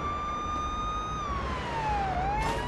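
A police car siren in the video game Police Simulator: Patrol Officers: a loud, steady electronic wail that holds a tone and then sweeps down and back up, heard alone.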